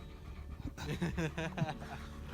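A big German Shepherd pants rapidly and close by in a quick, breathy rhythm, with faint outdoor background noise at a mountain overlook.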